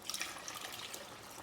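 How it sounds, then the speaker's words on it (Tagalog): Water runs quietly into a cooking pot while laksa is prepared at home, making a soft, brief trickling splash with no voices. "Lalagyan natin ito ng tubig guys at dagdagan natin ng tubig"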